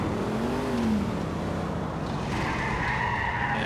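Virgo car in the game GTA IV, a loud, continuous engine roar with a sustained tire screech as the car skids, pitch shifting midway through the slide.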